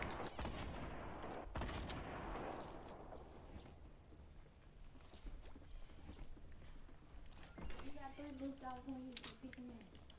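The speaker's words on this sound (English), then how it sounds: "They shoot grenades." Grenade blasts and gunfire in a Fortnite battle royale match, a sharp burst followed by scattered cracks and rumbling, with voices talking over the action.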